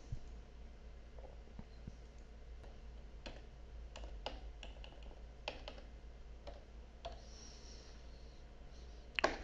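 Computer keyboard typing and mouse clicking in a quiet office setting, with irregular bursts of crisp key taps and clicks close to the microphone over a low steady hum.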